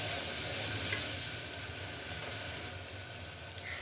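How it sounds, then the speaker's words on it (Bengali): Spice paste with ginger garlic paste sautéing in a pan, a steady close sizzle with soft stirring scrapes, no voices. "দিয়ে এখন আমি মশলাটাকে একটু কষিয়ে নিচ্ছি"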